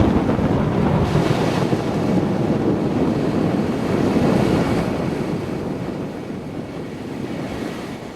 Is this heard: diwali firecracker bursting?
no